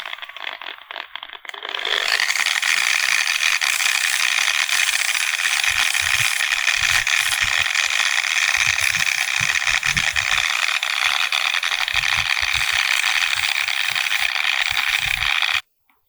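Continuous dry, hissing scrape of 400-grit sandpaper rubbed steadily over an alabaster bead, close up, starting after a brief pause and running without a break.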